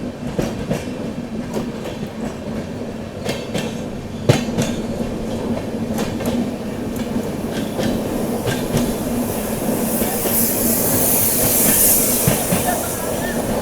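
Grand Trunk Express running at speed: the carriage interior carries steady rumbling wheel noise with irregular rail clicks and clacks, heard continuously from on board.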